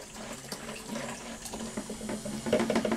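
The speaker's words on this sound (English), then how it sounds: "Take your beer that has gone bad and pour it in with the water." Spoiled beer is poured into a container of water, a faint continuous splashing and trickling liquid sound with small bubbly bursts, alone without voices.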